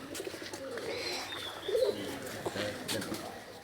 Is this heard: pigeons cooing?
yes